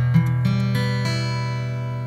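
Acoustic guitar chord slowly strummed across all six strings, the notes entering one after another in quick succession and then ringing out together, sustained and clear.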